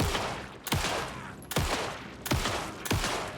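Heavy gunshots from the video game Alan Wake 2, four or five sharp, loud blasts spaced about half a second to a second apart, each with a booming tail, no talking.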